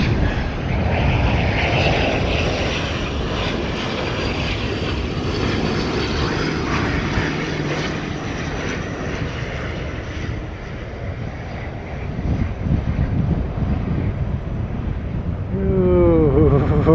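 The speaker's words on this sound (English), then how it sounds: "ATR coming in." An ATR turboprop airliner approaches to land, its propeller drone a loud, rumbling throb that rises and falls steadily, wind buffeting close by, with a brief whining pitch sweep near the end.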